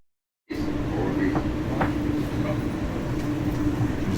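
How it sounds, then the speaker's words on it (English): Electric commuter train running through Jamaica Station in Queens, a steady loud rumble with a sustained low hum and faint squeals, starting abruptly after a brief silence. "This is one of the trains,"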